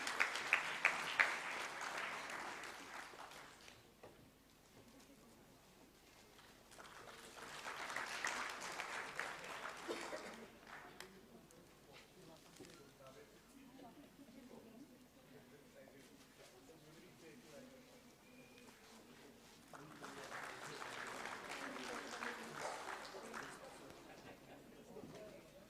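Audience applause at an award and oration function, swelling in several broad bursts separated by quieter stretches with faint murmuring, moderately distant in a hall.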